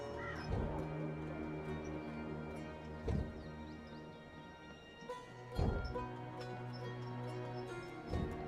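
A black raven in the Dreamfall Chapters game gives a few separate harsh caws, spaced several seconds apart, faint against a quiet ambient background with no speech.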